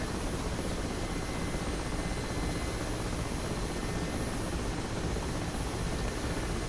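Continuous loud whine and thrum of a Mi-8 helicopter's turbine engines and main rotor in the DCS flight simulator, holding steady and close throughout with no talk.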